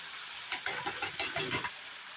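Soaked spice paste hits mutton frying in a hot pan, producing a bright, steady sizzle with several stirring scrapes and bursts close by.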